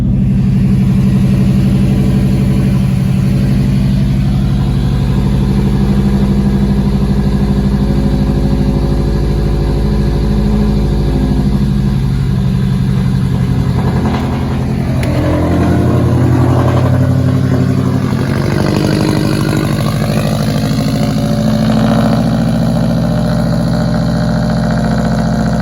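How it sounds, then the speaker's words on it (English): A 2005 Subaru STI engine idling after a cold start, a loud, close, steady low rumble that holds throughout, with slight shifts in pitch midway as it settles. "Just gonna cold start the car right now."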